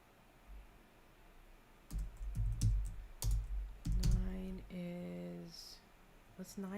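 Bursts of clicky computer keyboard typing arrive in irregular clusters, fairly close and moderately loud, with a few tonal game sounds mixed in and no talking.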